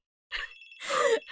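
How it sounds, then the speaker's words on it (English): Telephone trilling in the background, a short electronic ring pattern repeating between bursts of nearby voices, faint and partly masked. "the phone just continues to ring in the background"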